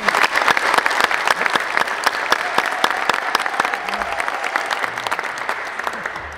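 A church congregation claps continuously and loudly, a dense close roar of many hands that stays steady throughout and fades slightly at the end.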